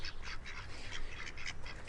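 Ducks squawking and quacking softly at a distance, a steady run of short nasal calls over a hissy outdoor background.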